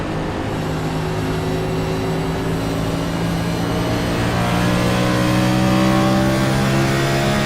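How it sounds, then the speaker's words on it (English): A race car on the Phoenix track, its engine droning loud and close as it brakes hard and downshifts, a steady sustained roar with shifting pitch throughout. "Miller hard on the brake, downshifts"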